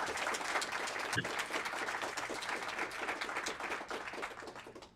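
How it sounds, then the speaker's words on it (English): Applause from an audience at a capstone presentation on entrepreneurial ecosystems, with steady dense clapping holding at an even level for several seconds before thinning slightly at the end. "we should just give Cody and Dylan a big round of applause right now"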